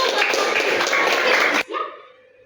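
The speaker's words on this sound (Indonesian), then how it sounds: "Silakan maju ke depan. Tepuk tangan dulu." A classroom group claps together for about a second and a half, a dense, close burst of applause that cuts off sharply, followed by a brief ringing tone.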